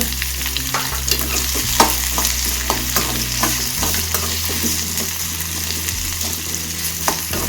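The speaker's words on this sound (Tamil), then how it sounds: "இப்போ இது வதங்கட்டுங்க" Onions and dried red chillies sautéing in oil in a pan with salt, a continuous close sizzle under repeated scraping strokes of a spoon, fairly loud, without any talking.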